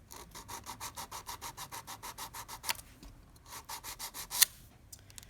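A nail file rasps steadily across a nail tip on a training hand, making quick, even back-and-forth strokes close by. A short pause breaks the rhythm, then the strokes resume.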